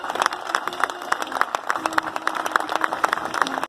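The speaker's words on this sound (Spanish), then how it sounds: "ahora sí lo aplaudimos a los chicos" A crowd claps for the children at a parade, with a brisk run of distinct hand claps in an irregular rhythm and a few voices mixed in.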